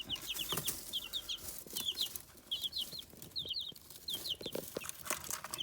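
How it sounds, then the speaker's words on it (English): Young bluebell and black copper Marans cross chicks peep in quick, high chirping bursts, close and fairly clear, with occasional soft wing flapping and rustling between calls. "These are our new chicks."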